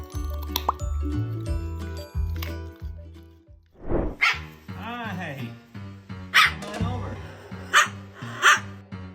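A pet parrot imitates a dog, giving a string of loud, close barks and yips with whimper-like squeaks in between, set against background music.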